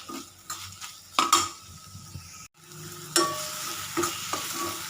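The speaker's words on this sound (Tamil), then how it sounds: "இப்போ தக்காளி வதங்கட்டும்" Tomatoes sautéing in a pan for quail gravy, with scraping spatula strokes and metallic clinks over a sizzling bed, a short gap midway, then renewed stirring.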